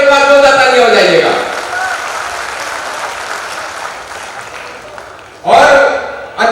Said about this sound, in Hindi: आप समर्थन दीजिए कवियों में, एक बार जोरदार ताली हो जाइएगा।